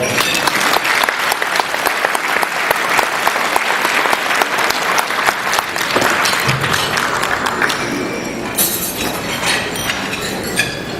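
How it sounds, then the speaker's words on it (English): Dense, sustained applause from an audience at a community award ceremony, loud and continuous, with a few sharper claps and a slight thinning near the end. "Please give another round of applause to the Chow Association."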